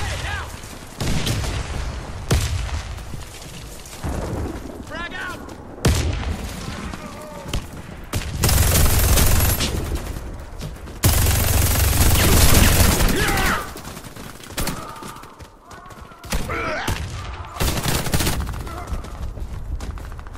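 A frag grenade blast and rapid gunfire in a video game, with loud repeated bursts and booms crowding together, dense and close throughout, while voices shout over the fighting.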